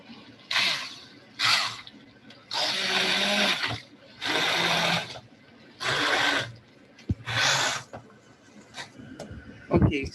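Eggplant and minced beef are mushed in a blender, which runs in about six short pulsed bursts of whirring, each a second or so long, separated by brief pauses.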